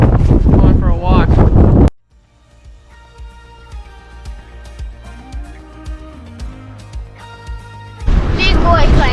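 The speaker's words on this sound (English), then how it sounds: "It's really windy out here." Strong wind buffets the microphone on an Alaskan island coast, roaring loudly at the start and end, with a quieter stretch between where people talk over the outdoor background.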